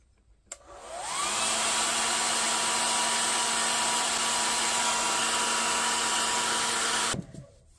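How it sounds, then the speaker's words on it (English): A hair dryer switches on with a rising whine, blows downward at a steady, loud hum for several seconds while setting liquid Sculpey clay earrings, then cuts off abruptly. "So I'm going to blow with the hair dryer down."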